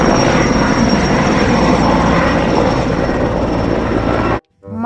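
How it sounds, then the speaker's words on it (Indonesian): Toy helicopter sound effect, a loud steady whirring rotor drone with a thin high whine, running continuously and cutting off abruptly just before the end. "Helikopter."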